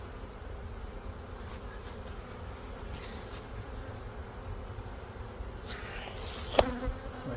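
Honey bees buzzing around an opened hive frame while burr comb is cleaned away, a steady close drone with a few louder passes and a brief scrape near the end.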